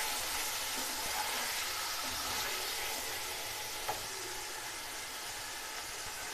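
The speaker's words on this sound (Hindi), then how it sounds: "अब हम टमाटर, बस 1 मिनट इसको फ्राई करेंगे हम।" Garlic, ginger and tomato frying in a pan, a loud, continuous close sizzle with a brief clatter near the middle.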